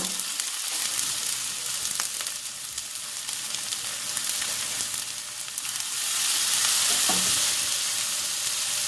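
Mung beans sizzle steadily in a hot pan for ginisang mongo, a continuous bright frying hiss with faint stirring, no voices.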